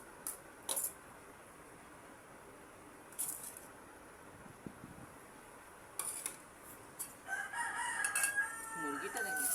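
A chicken clucks a few times at close range, short clucks scattered across a quiet room tone, with a burst of louder fowl calls toward the end and no speech.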